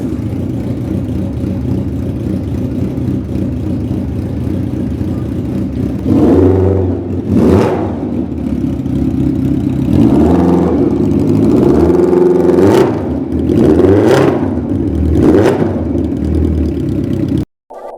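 A custom Honda CBX750 motorcycle engine rumbles at a steady idle, then is revved in several sharp rising blips, loud and close with no talking.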